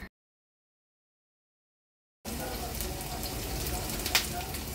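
Hakka noodle ingredients fry in a pan at full heat, making a steady close crackling sizzle that starts suddenly after two seconds of silence. One brief sharp clink sounds near the end.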